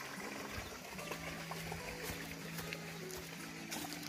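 Water flowing out of a small dam on a rural farm property, a steady broadband rush and trickle running continuously and fairly close, with a low hum underneath and no talking.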